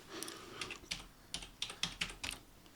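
Quick bursts of typing on a computer keyboard, about a dozen light clicky keystrokes in small uneven clusters, close and fairly quiet in a still room with no voices.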